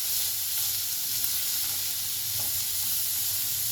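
Onions frying golden in oil for Kabuli Uzbek pulao, stirred steadily, give a constant close sizzle and hiss with soft scraping stirs throughout, no voices.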